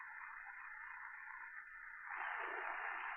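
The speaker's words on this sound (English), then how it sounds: "We're at the bottom of the AM band. We'll just kind of cruise it up." A TakTung JP-1 radio tuning up from the bottom of the AM band with treble: a steady band of static and hiss that shifts tone partway through, like a dial sweeping between stations, with no clear voices.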